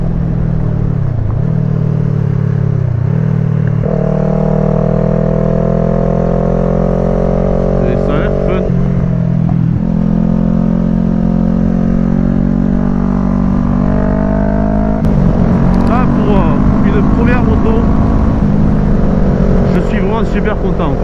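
A Kawasaki ER6N motorcycle riding along a road in Lot-et-Garonne, its engine droning loud and close throughout, with the pitch rising and falling as the revs shift between gears, under steady wind rush.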